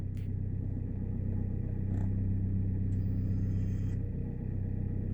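An Opel Vectra C with the 1.9 Z19DHT diesel engine idles with the clutch pedal pressed after a clutch replacement, giving a steady, even low rumble close up with a couple of faint clicks.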